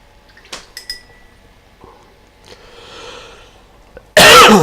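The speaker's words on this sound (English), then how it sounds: "Coughing my guts up there." A man coughs several times near the microphone, the sharp bursts scattered among a few light clinks of glass or metal in a quiet workshop, ending in a sudden loud burst of noise.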